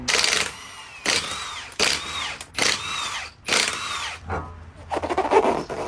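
A 2017–2022 Honda CR-V being jacked up and its wheels removed: about five short, loud whirring bursts of a power tool in quick succession, close by, with a brief rattling clatter near the end.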